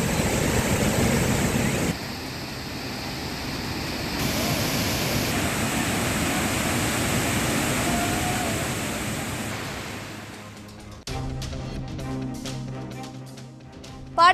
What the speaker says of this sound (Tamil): திருப்பரப்பு மெயின் அருவியில் ஆர்ப்பரித்து கொட்டும் தண்ணீரால் குளிக்க தடை.